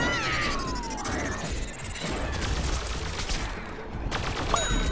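Gatling Pea firing in Plants vs. Zombies Garden Warfare 2, a rapid stream of shots with whistling projectile sweeps and impacts, fairly loud and continuous throughout.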